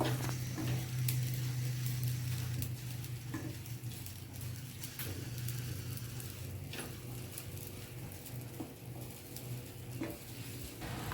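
Dried shrimp (golma) dry-roasting in a kadhai with no oil, a steady soft sizzle and crackle with occasional stirring scrapes running throughout at close range, no talking.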